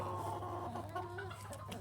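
An Easter Egger hen in a backyard pen gives low, steady clucking and soft chatter, close and continuous for a couple of seconds with faint rustling behind.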